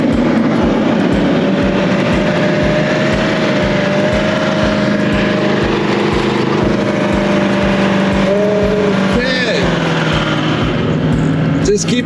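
A safari vehicle stuck in a sandy riverbed in South Luangwa National Park revs its engine steadily and loudly, a low droning growl with shifting pitch, while people talk over it.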